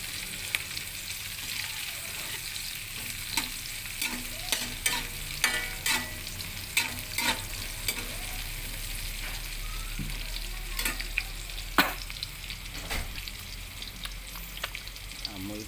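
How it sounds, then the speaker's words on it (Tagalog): Onions sizzling and frying in a pan for Bicol express, stirred with repeated scraping clacks of a utensil over a steady hiss, with faint voices in the background. "Lagyan na natin ng sibuyas. Haluin na natin."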